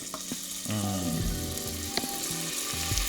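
Chopped onions dropped into olive oil in a pan, bursting into a sudden bright sizzle that settles into a steady crackle, close and moderately loud with no talk.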